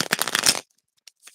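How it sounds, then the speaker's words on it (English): Small tarot cards shuffled by hand, a close, crisp riffling burst for about half a second followed by a few soft card taps. "I like to shuffle my cards like that with the small ones."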